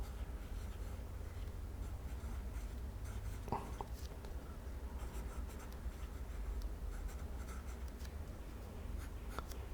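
A fountain pen with a soft flex nib scratches faintly across paper in short strokes and light taps, quiet and close against a low steady background hum.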